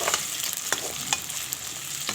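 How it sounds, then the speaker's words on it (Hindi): Potatoes frying lightly in hot oil for fried rice, with onion to follow, give a steady sizzle close by, broken by a few sharp scrapes and clicks of stirring, with no voices. "मैं पहले आलू हल्का सा फ्राई कर लेती हूँ"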